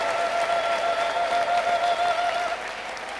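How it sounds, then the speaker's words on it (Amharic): A church congregation applauds and ululates, with dense, even clapping filling the space and a thin sustained trill riding on top before it eases off near the end. "ታላቅ ልልታ ታላቅ ጭብጨባ እንድታመጡለት እፈልጋለሁ"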